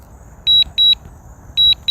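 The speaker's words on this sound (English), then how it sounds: "Oh, it's got to get beepy again." Loud, high-pitched electronic beeps in quick pairs, repeating three times over a quiet background hum.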